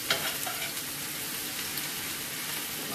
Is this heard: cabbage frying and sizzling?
yes